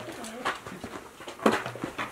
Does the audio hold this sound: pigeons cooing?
yes